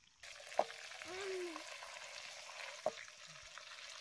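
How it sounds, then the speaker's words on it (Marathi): A faint, steady sizzle of a whole masala chicken frying in a wok runs throughout, broken by a couple of brief clicks and a short tonal blip, quiet and somewhat distant. "आता ही कोंबडी खालवर खालवर करून कढईत तशी भाजल्या बघा"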